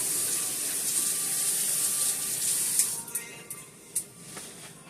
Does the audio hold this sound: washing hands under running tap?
yes